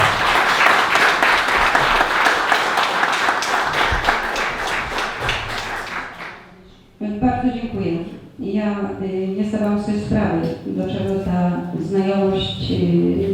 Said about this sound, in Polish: Przed Wami siostra wam Stefanowski, wielkie brawa!